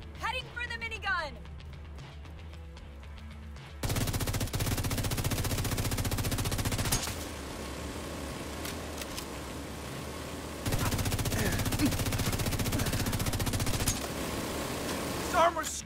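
Minigun fire in the game The Division 2, during a hardcore control point fight: long sustained bursts of rapid gunfire roar loud and close, broken by brief pauses, with voices talking over the shooting.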